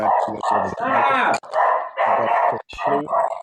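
A pet dog in a house barks and yips repeatedly in quick, loud bursts close by, with a person talking over the noise.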